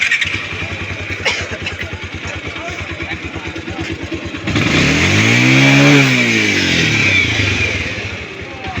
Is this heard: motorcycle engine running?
yes